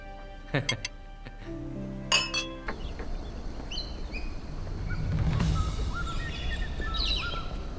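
Glasses clink together a couple of times in quick succession, sharp and bright, with voices and faint birdsong in the background.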